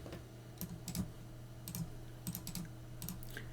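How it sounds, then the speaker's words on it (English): Someone types a command on a computer keyboard with quick bursts of light clicking keystrokes separated by brief pauses, close and quiet, and nobody talks. "I will type this command."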